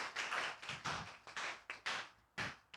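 A handful of people at a church youth service clap in sparse, separate bursts, the individual claps distinct and quiet rather than forming a full round of applause.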